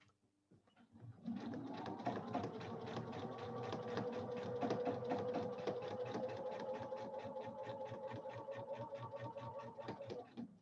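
A sewing machine stitches a throw pillow in one long continuous run, starting after a brief pause and holding a steady rapid needle rhythm close by until it stops, with no talking over it.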